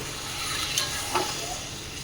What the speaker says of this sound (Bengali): একসঙ্গে এটা নাড়াচাড়া করে নিলাম